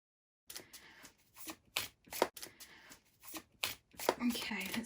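A deck of tarot cards being shuffled by hand in a string of short, crisp riffling bursts separated by brief pauses, close and fairly quiet, with no talking over it.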